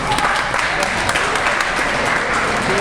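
At a fall athletic assembly, an audience in a hall gives a standing ovation, sustained crowd clapping at a steady volume with voices and cheering mixed underneath.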